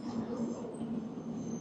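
A yellow-striped JR Sobu Line commuter train passing near Ochanomizu Station, a steady, moderately loud rumble of wheels and motors with a faint high whine, continuous throughout with no talk.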